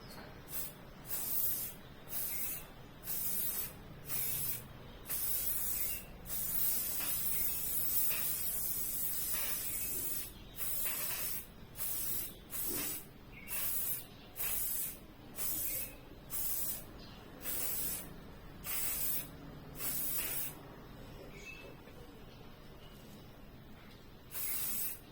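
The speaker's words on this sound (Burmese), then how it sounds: "စပရေးဖြန်းတဲ့ခါကျလို့ရှိရင်" Aerosol spray can spraying in a long series of short, even bursts with brief pauses between, close up and fairly loud, with no talking.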